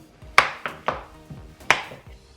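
Knife chopping through a block of melt-and-pour soap base on a hard surface, several sharp close cuts in an uneven rhythm, each ending with a brief tap, no voices.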